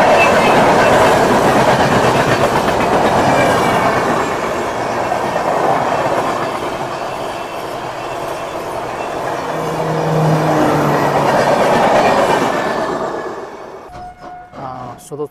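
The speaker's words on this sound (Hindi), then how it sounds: "ट्रेन जो है कितना रेंग रेंग के चल रही है" Sikkim Mahananda Express passenger train rolling slowly on rails between Delhi and Kanpur, a steady loud rumble of wheels and carriage noise throughout that eases and thins out near the end.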